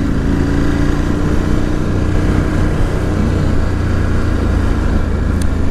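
A Ducati Scrambler 1100 Special rumbles through its standard exhaust pipes while riding, a steady loud engine drone mixed with heavy wind roar and no talking.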